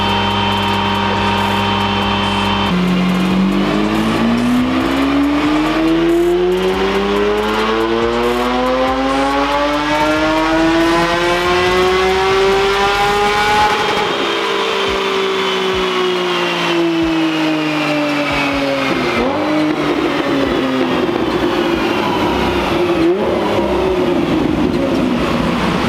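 A 2011 BMW E90 M3 engine revs up and down, its tone sweeping smoothly higher over several seconds, then falling and rising again, loud and continuous throughout.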